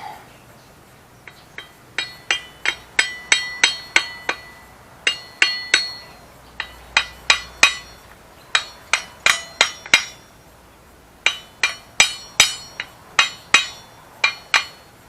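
Metal hammer taps on an ATV part, a K-Lion Santa 200, as it is driven into place; around thirty sharp, ringing strikes come in quick clustered bursts, close and clear with no talking.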